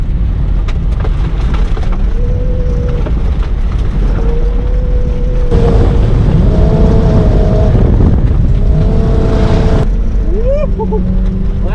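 A 1960 Cadillac engine roars at full throttle on a dirt track, a loud continuous rumble with rising and falling revs as it pushes through a lap, close and steady throughout.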